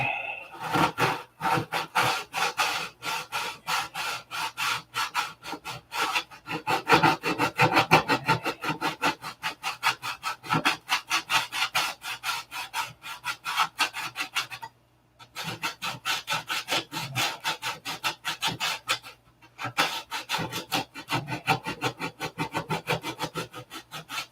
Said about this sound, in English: So I'm going to take sandpaper on a stick.